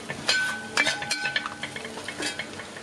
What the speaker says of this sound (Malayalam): മല്ലിപ്പൊടി 1 മിനിറ്റ് നന്നായിട്ട് ഇതേ കൂട്ടൊന്ന് മൂപ്പിച്ചെടുക്കുക.